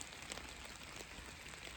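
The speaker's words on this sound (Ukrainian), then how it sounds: "Дощик." Light rain falls in a steady, soft hiss, faint and even throughout, heard alone during an outdoor metal-detecting dig.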